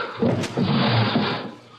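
Desk drawer sliding open in a 1940s radio drama, a short muffled wooden scrape and rumble with a faint knock, close but soft over a hissy old broadcast recording.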